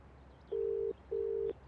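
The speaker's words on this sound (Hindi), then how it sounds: "शशांक को ट्राई करता हूँ" Two steady electronic phone dialing tones, each about half a second long with a short pause between them, clear against a quiet background.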